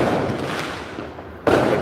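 Fireworks popping outdoors on July 4th behind a person, a dense crackling wash that fades slightly before a sharp louder burst near the end, with no talk during it.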